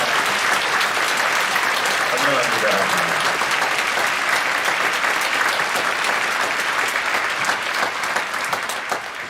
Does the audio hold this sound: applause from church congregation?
yes